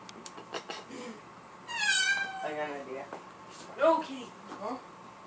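A cat meows repeatedly, with loud drawn-out cries that rise and fall and are spaced apart by short pauses, close to the microphone and occasionally overlapping with light background sounds.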